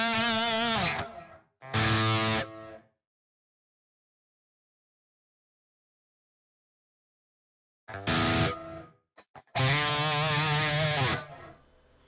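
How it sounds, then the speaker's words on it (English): Electric guitar played through a ToneForge plugin reverb, with two short distorted phrases, a long silence, then more ringing distorted chords with reverb tails. "this reverb pedal is awesome as well"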